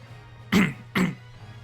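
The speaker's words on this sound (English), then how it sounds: "Sorry, I had to clear my throat." Two short, gruff throat-clearing bursts about half a second apart, close and fairly loud over a low steady hum.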